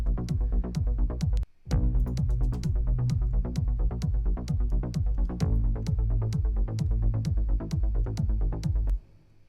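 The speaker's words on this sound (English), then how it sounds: "another sidechain technique that I like to use is sidechaining the kick to the bass" A looped electronic groove in Logic Pro, with a kick drum sidechained to the bass through a Waves C6 compressor, pumping steadily with a brief dropout near the start, no talk.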